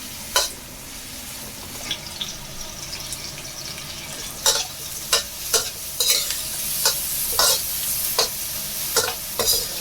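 Garlic, onion and ginger sizzle in a pan as a spatula stirs them, a steady frying hiss broken by repeated sharp scraping strokes, close and loud, with no talking.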